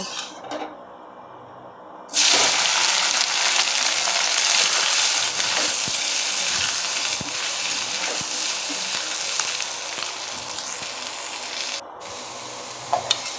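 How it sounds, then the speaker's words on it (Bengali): Drained soya chunks fry in a pan with a loud, steady sizzle that starts abruptly after a quiet moment and carries on for more than ten seconds, easing slightly near the end, with no talking. "এখন আমি সেই জল ঝরানো সয়াবিনগুলিকেও ভালো মতো ভেজে নেব।"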